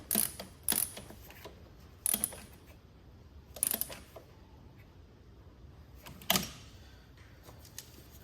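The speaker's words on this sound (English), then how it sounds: "Tighten the bolt back up to lock fully in place" A wrench tightens a bolt on a Volkswagen T4 2.5 TDI diesel fuel pump, giving several sharp metallic clicks and ratcheting clatters spaced irregularly over quiet workshop background.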